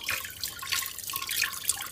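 Water poured steadily while making paneer at home in a village, a continuous splashing, trickling pour with brief drips, close and fairly loud throughout, no talking.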